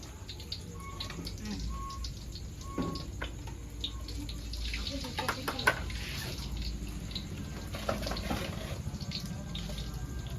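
Hands being washed under a running tap outdoors, a steady hiss of flowing water with splashes and drips, while birds chirp in the background and people chat nearby.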